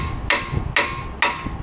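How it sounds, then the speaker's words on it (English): A brass hammer strikes a Hummer H2 tie rod during a front suspension overhaul: three sharp, ringing metallic blows, close and loud, spaced about half a second apart. "Using a brass hammer."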